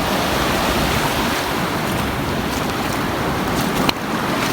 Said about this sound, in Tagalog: Maalon.